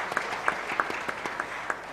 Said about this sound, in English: Round of applause from Ms. Brass